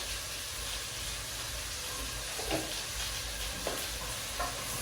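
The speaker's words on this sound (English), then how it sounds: "So we stir." Nile perch frying in a pan with a steady bed of sizzle, and a few soft scraping stirs of a spoon breaking through now and then, close by with no talk.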